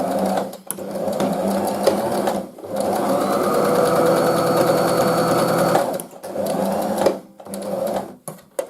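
Sewing machine stitching fabric face masks, running in long steady bursts with brief pauses between them, loud and close with no talking.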